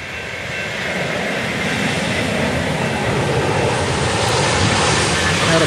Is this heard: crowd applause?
no